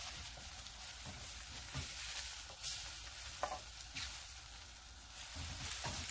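Beaten eggs are pushed and stirred around a hot frying pan for soft scrambled eggs, with a continuous gentle sizzle broken by scraping strokes of the spatula, close up and with no talking.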